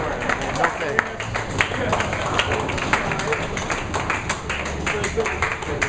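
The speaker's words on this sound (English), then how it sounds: "Crowd likes it." At a bowling match, a crowd claps in a steady patter of close, sharp hand claps, with a commentator's voice running over it.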